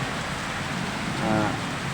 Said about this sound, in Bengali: মেঘের গর্জন আমরা শুনতে পাচ্ছি, আর মুষলধারে বৃষ্টি দেখতে পাচ্ছি